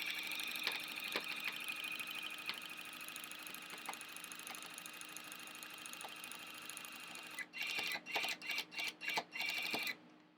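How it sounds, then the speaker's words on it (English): A new tufting machine runs with a steady, close mechanical buzz and rapid reciprocating hum for several seconds, then stutters in short on-off bursts before stopping. "First tufting on the new machine."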